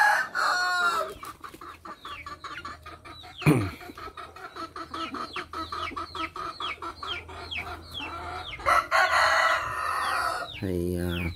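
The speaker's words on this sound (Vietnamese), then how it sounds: "Con gà này là một con gà mà mặt nhỏ nè" A tích Phật hầu bò rooster, a small-faced chicken breed with a dewlap, clucks steadily in short repeated calls, then crows loudly near the end, close and clear with no talking.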